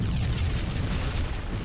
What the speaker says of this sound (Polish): Jaki wybuch.